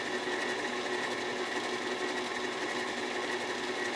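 Electric mixer beating Swedish dream cookie dough after the dry ingredients go in, a steady close, loud whirring drone that runs unbroken for the whole stretch with no talking over it.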